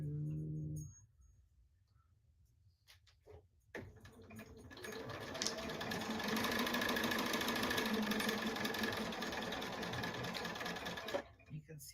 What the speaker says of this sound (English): the Bernina does a good job of straight stitching